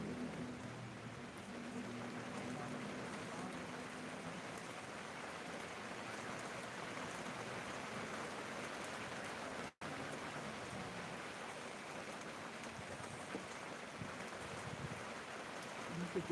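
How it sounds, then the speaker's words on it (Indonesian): Steady rain falls throughout, a dense continuous hiss of drops with a brief cut in the middle. "kayak suara hujan ya"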